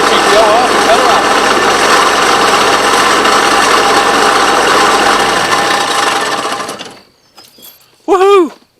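Mahindra Emax tractor engine running loud and steady with the PTO engaged, then winding down and cutting off into near silence, followed by a short burst of speech.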